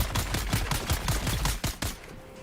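Automatic gunfire in the Dune: Awakening video game rattles out as a rapid burst of about a dozen loud, evenly spaced shots that stop abruptly, leaving a faint hum.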